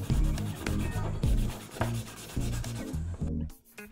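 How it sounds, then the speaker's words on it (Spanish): Rhythmic back-and-forth rubbing of 240-grit sandpaper across the body of a Bburago Volkswagen Golf MK4 scale model car, steady close strokes of even loudness with no talking. "comienzo a lijar toda la carrocería."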